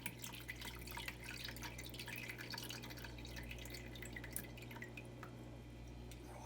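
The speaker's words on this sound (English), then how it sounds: "We're going to drain that out." Water drains and drips from a tray holding blackworms, a faint, steady trickle with scattered small drips close by and no voices.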